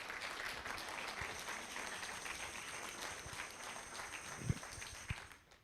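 Steady applause fills a fundraiser room as an audience claps for donors, a dense even patter of many hands that thins out toward the end.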